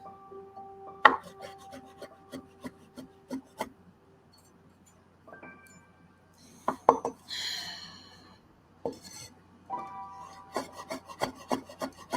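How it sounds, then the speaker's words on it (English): A kitchen knife chops and minces food on a wooden cutting board after the hard ends are cut off. Sharp, irregular knocks come in quick clusters, separated by quiet gaps and a few scraping rubs. "Just cut off these hard ends and then mince"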